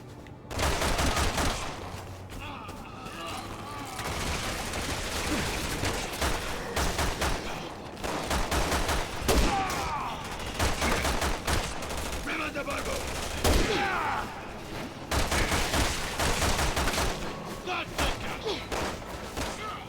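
Rapid bursts of sniper and automatic gunfire in the Resident Evil 6 video game, loud and continuous with repeated cracks and thuds, while people talk over the action throughout.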